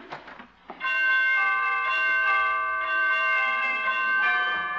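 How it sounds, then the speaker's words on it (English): Door chimes ring out in a series of bright, sustained tones that overlap and linger, preceded by a few quick knocks or taps at the start, in an old radio show. "Well, pretty door chimes"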